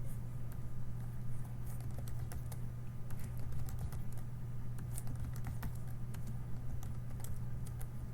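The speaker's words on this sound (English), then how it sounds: "continue typing." Steady typing on a computer keyboard during a Photopea text-art tutorial, a continuous run of close, crisp key clicks over a low constant hum, with no voices.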